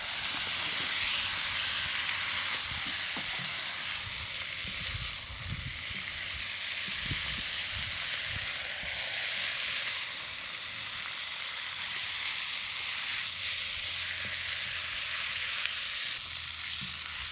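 Beef and bean sprouts stir-frying in a hot pan give off a steady, loud sizzle with occasional stirring clatter, continuous and close throughout.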